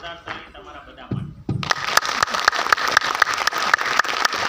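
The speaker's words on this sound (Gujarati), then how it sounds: "જોરદાર તાળી તમારા બધા માટે" A crowd claps loudly in a seminar hall in Amreli, the applause starting abruptly after a few spoken words and holding as a steady, dense roar of hands.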